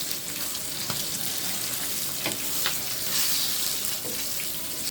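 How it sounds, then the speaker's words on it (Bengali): Pieces of hilsa fish fry in hot oil with a steady, fairly loud sizzle that runs throughout, broken by scattered sharp pops and spits. "এখন মাছগুলো দিয়ে দিব ভাজার জন্য।"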